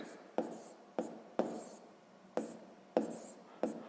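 Pen strokes writing out a sixth-grade math solution on paper, several short scratchy bursts in an uneven rhythm, close and quiet with no talk.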